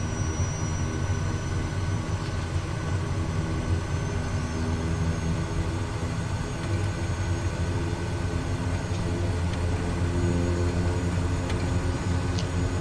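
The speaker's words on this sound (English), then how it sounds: "The airplane just needs some very little thrust to actually get moving." A steady, droning turbine hum from an SWS Daher Kodiak turboprop taxiing in Microsoft Flight Simulator, even and unbroken throughout with a faint high whine on top.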